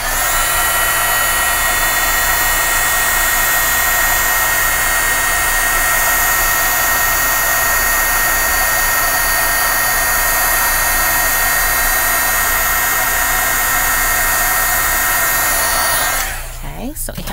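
A dryer blows over a card to dry marker ink, making a loud, steady, close whirring roar that runs unbroken for about sixteen seconds before cutting off.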